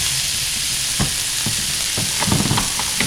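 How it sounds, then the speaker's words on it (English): A smashed beef patty sizzles, smokes and crackles loudly on a hot griddle, with a few sharp scraping taps of a spatula. "when you smash that beef down, it should break open and just start smoking and just sizzling like crazy"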